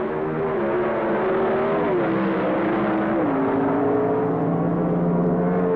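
Pro Stock drag race cars, a Hornet and a Mustang, roar down a 1,320-foot quarter-mile strip at the 1975 NHRA Winternationals, a loud continuous engine drone with shifting pitch steps, heard from a distance with no talk over it.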